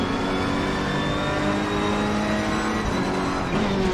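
In Assetto Corsa Competizione, a racing video game, a race car engine screams at steady high revs during a race, loud and continuous, with a brief shift in pitch near the end.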